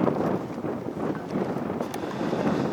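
Blustery afternoon wind at an outdoor airfield in St. George, Utah, buffeting the microphone as a steady, loud rumbling roar with no breaks and no talking.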